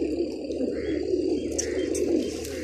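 A large loft of flying pigeons, over a hundred birds, fills the space with dense overlapping cooing, joined by scattered high chirps and short tweets near the end, close and steady with no voices.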